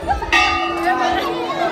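Large bells at Ghanteswari temple ring out with a bright metallic strike, then a long shimmering hum that hangs and slowly fades, with murmuring voices in the background.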